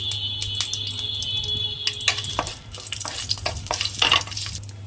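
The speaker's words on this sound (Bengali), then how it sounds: "এবার আমি শুকনো লঙ্কাগুলোকে ভেজে নেবো" Dried red chillies frying in well-heated oil in a kadai, a steady sizzle with scattered crackles and light utensil ticks running through the whole stretch, fairly close and with no voices.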